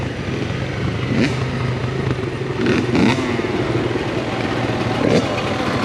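A Kawasaki KLX 140G dirt bike rides through a forest trail, its engine droning steadily and close with brief rattles and clatter throughout.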